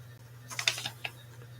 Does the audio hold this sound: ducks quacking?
no